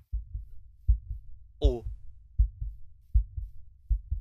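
A heartbeat sound effect in a Minecraft horror map: steady low double-thump pulses repeat throughout, with one brief vocal exclamation partway through.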